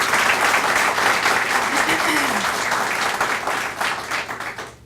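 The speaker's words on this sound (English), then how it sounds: "Can we have a round of applause for them as well?" An audience claps steadily and loudly, the applause holding for a few seconds before gradually tapering off.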